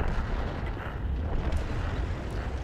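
Deep booming tank cannon fire from the game World of Tanks rumbles continuously, with heavy low blasts and dense noise filling the whole stretch.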